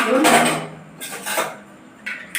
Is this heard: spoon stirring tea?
yes